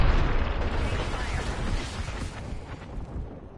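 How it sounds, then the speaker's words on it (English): A thermite grenade goes off in a video game as a loud, rough roaring burst that fills the whole moment and fades slowly, with gameplay noise underneath. "Thermite grenade on delivery."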